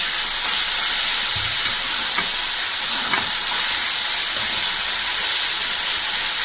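Vegetables for veg fried rice fry in a hot pan, giving a loud, steady sizzle and hiss throughout with a few faint scrapes of stirring and no talk.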